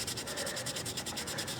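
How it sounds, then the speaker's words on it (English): Sanding glazing Bondo filler, rapid rhythmic back-and-forth rasping strokes, about a dozen quick even passes, close and steady, with no voices. "I get a little gruff with this part of the sanding."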